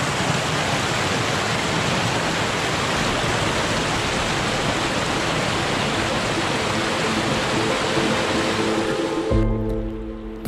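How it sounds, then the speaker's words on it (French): Mountain stream Ruisseau de la Gardelle rushing loudly along a descent trail, a dense continuous roar of flowing water close by that cuts off abruptly near the end. "Le ruisseau de la Gardelle nous accompagnera tout au long de la descente"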